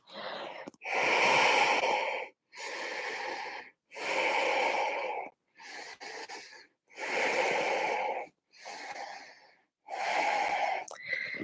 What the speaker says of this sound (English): 5 Ujjayi breaths.